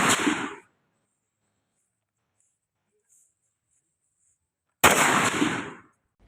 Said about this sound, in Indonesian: senjata laras panjang menembak dengan sikap tiarap jarak tembak 100 meter